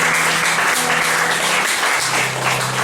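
A church congregation applauding: dense, steady clapping that fills the room, loud and continuous, with a low sustained tone running underneath.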